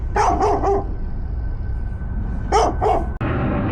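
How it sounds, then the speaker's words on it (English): A dog barks three times in quick succession, pauses, then barks twice more, loud and close over a steady background hum. "That's my landlord's dog. He likes to come over and argue with me."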